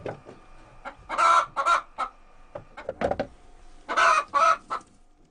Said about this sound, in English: I have 10 hens and 3 cockerels, so we get a lot of eggs.